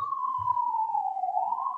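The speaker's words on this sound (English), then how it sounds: "All I heard were sirens." A police-style emergency siren sound effect, a single loud, steady wailing tone that slowly sinks and then rises again, heard alone with a couple of faint low thumps at the start.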